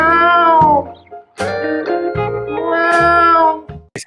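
A cat meows loudly and close up in three drawn-out, wavering cries separated by short pauses, with no talking around them.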